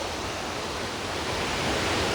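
White Oak Falls waterfall on its creek, a steady broadband rush of falling water, close and even throughout with no voices.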